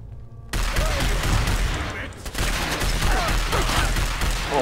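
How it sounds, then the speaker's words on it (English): Dense automatic weapon fire in Fallout 4, a loud continuous barrage of rapid shots with heavy low booms running almost the entire time after a brief quiet start. "Oh, auto weapons."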